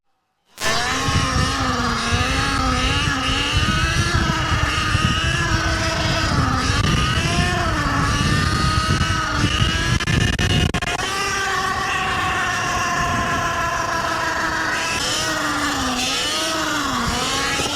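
Surron Ultra Bee electric dirt bike fitted with 17-inch supermoto wheels, ridden close by with a steady high motor whine that rises and falls in pitch, loud and continuous with no talking.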